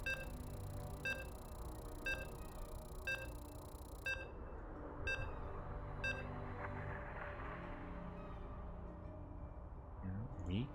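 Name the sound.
beeps while loading into a game in StarCraft 2 video game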